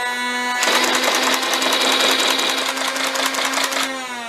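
A loud, steady electronic whir with a rapid pulsing buzz from a NERF Aliens M41-A toy pulse rifle runs for about three seconds, then cuts off, over a constant background tone.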